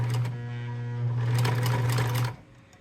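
A sewing machine stitches fabric for a neck rice warmer, giving a steady close mechanical whir with a rapid needle rhythm that runs for about two seconds and then stops.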